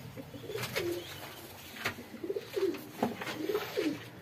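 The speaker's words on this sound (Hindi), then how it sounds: "ये हमारे कबूतर बाहर दाना चुग रहे हैं" Pigeons coo softly in a repeated rolling pattern, several calls spaced across the clip, with light outdoor background noise.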